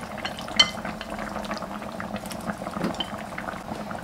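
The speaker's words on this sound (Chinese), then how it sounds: "这回转小火，把刚刚腌好的肉片倒进来" Marinated meat slices go into a pot of simmering chayote soup, a low, steady bubbling with a sharp utensil clink near the start and soft stirring clatter throughout.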